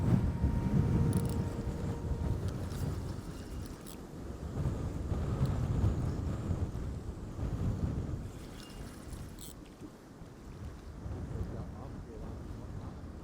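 Gusty wind buffets the microphone beside the River Trent during barbel fishing, a continuous low roar that swells and eases in waves with faint higher hiss.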